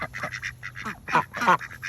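Several ducks quack in quick, overlapping bursts close by, a nasal chatter rising and falling.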